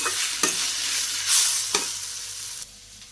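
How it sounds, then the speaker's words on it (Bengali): Chopped onion sizzles in a hot pan in a village kitchen, a steady frying hiss broken by two sharp scraping stirs and a brief louder spatter, close and with no voices. "একটু পেঁয়াজ কুচি দিয়ে দিতেছি একটু ভাজি হয়ে গেছে"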